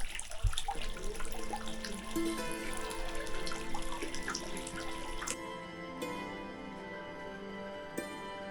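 Clean water from a perennial spring beside a hilltop fort trickles and splashes steadily, close and continuous, with a few sharp drips toward the end and no voices.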